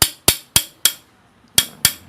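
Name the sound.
hammer tapping stuck fan blade off rotor shaft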